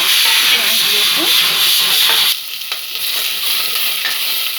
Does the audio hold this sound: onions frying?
yes